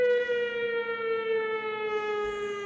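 A steady, wailing siren tone, slowly falling in pitch, rings out alone at moderate loudness.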